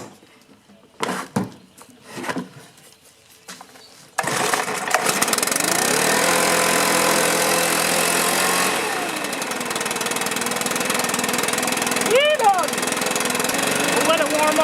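A Stihl 4-Mix engine settles into a steady, loud idle after a few seconds of quiet handling noises, droning on evenly with a slight dip partway through.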